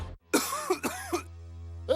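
Two or three harsh coughs in a row, close and loud, with a short throat-clearing catch at the end.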